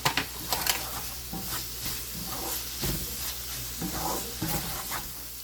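Egg macaroni pasta with coriander leaves is stirred in a hot pan, with a steady sizzle and repeated scraping strokes close by, a few sharper clinks at the start.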